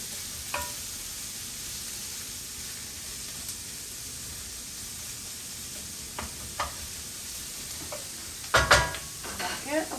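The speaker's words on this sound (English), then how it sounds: "So we've got our onions on" Onions sizzle steadily in a hot pan, a soft continuous hiss with a few sharp stirring scrapes and clatters near the end.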